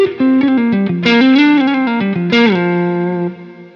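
Overdriven electric guitar played through a Line 6 Helix amp model with reverb added, a short phrase of sustained distorted notes with a lingering tail, loud and up front.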